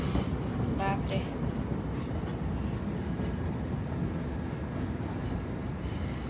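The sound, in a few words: train passing near Seoul Station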